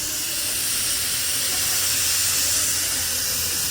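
A pressure cooker vents steam through its whistle while carrot halwa cooks, giving a loud, steady, close hiss that lasts the whole stretch without a break.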